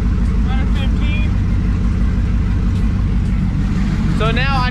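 An LS-swapped twin-turbo Mustang engine idling, a loud, steady low rumble that runs unbroken throughout, with someone talking over it at the start and again near the end.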